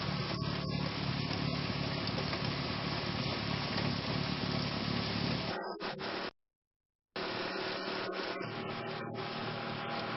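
Twin auger snowblower on an MT5 tractor with the engine at full throttle, a loud, continuous mechanical roar and scraping churn, broken by a short gap of silence before resuming.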